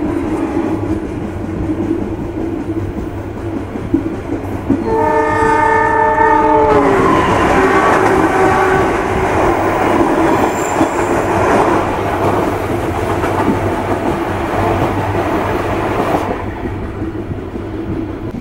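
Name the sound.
Gumarang passenger train running after departing Cepu station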